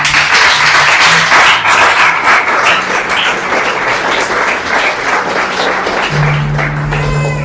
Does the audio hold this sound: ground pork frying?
no